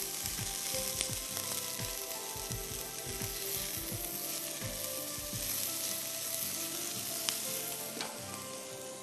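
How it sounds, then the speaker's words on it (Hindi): Sliced onion and bell pepper sauté in oil for a peanut soup, giving a steady, close, loud sizzle and crackle throughout with occasional stirring scrapes, and no talking. "स्लाइस में कटी हुई प्याज और स्लाइस में कटी हुई शिमला मिर्च"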